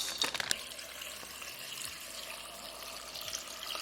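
Tap water pouring into a pot holding pasta, a steady quiet splashing stream with a few sharper clinks near the start, close and without talk.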